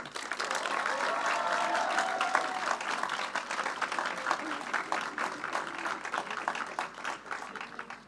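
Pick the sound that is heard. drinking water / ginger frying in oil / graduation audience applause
graduation audience applause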